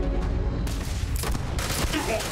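Rapid gunfire in Starfield rattles in bursts against the player, busy and dense with booming shots layered over game noise throughout.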